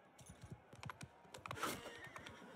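A horse whinnies in the video game Realm of Thrones, a bright, shrill neigh near the middle over a rhythmic run of galloping hooves, fairly faint overall.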